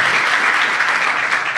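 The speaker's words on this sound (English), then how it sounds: "Let's give him a round of applause" Conference audience claps for a speaker after a database talk, a brief, loud, dense burst of many hands close up with no voices.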